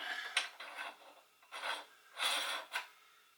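Metal parts of a retro hand meat grinder scraping and grating as its fine plate is screwed on, a few short rasping bursts with pauses between, close and fairly quiet, no talk.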